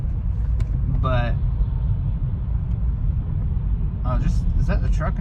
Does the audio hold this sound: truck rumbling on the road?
yes